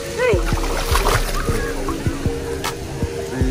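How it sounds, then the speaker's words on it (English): Water splashes repeatedly in windy outdoor water on a vacation, with a series of short slaps and sprays while children and adults talk and shout throughout. "Water splash. Water splash."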